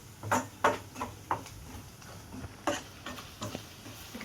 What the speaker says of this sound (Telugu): కారం అనేది కొంచెం మంచిగా ఫ్రై కావాలి